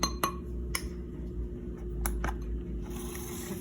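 Dry cookie ingredients are stirred in a bowl, with a few sharp clinks of a utensil against the bowl over a soft, steady scraping and hum, close by.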